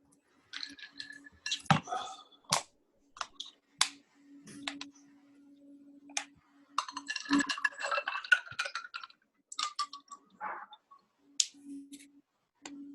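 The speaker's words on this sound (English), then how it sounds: "We can hear the ice cubes clinking." Ice cubes clinking in a drinking glass of water with lemon during a council meeting call, a string of sharp, close, irregular clicks and rattles with a low hum underneath and no speech.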